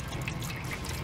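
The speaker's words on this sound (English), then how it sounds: "Just pour it into a clean container." WD-40 Specialist Rust Remover liquid being poured into a clean container, a brief soft trickling and dripping of liquid heard close by on its own.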